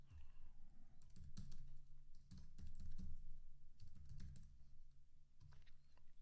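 Someone types a C# script name on a computer keyboard in a Unity project. Steady, close key clicks run for several seconds, unevenly spaced, with a low background hum and no speech.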